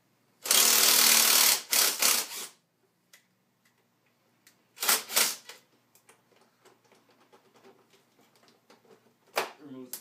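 A tool loosens the top bolt on a 2013 KTM 250sx motocross bike in a burst of rapid loud ratcheting, followed by two shorter bursts, with quiet clicks and handling noises between them.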